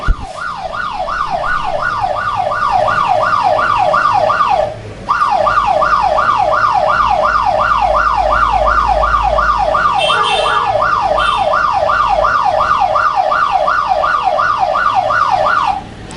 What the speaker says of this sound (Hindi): ये मैसेज रिफ्लेक्ट होगा वैसे ही सायरन ऑफ हो जाता है हमारा